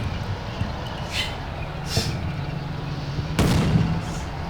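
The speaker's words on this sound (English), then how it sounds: "we just had a fire over there from one of our tanks" Tanks firing their main guns in the Combat Mission Black Sea wargame, three separate distant booms spaced about a second or more apart, the last one heavier, over low battlefield rumble.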